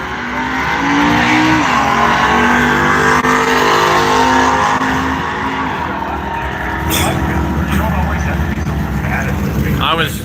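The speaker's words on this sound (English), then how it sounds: "So now we get to watch some racing." Race cars at the Halloween Classic roar past in a loud, sustained engine drone with shifting pitch and brief tire squeals, while voices talk over the noise.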